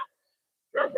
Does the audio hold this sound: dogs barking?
yes